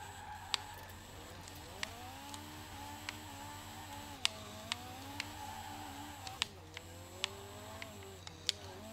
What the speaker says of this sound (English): You can hear the turbo fluttering.